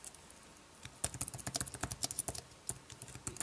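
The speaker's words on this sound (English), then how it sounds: "let's go ahead and go to Notes and start typing something" Rapid clicky keystrokes on a compact Logitech solar keyboard folio for iPad, an uneven burst of typing starting after a quiet moment, close and fairly soft.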